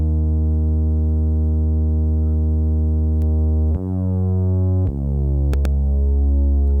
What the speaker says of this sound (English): The SH101 sounds like this.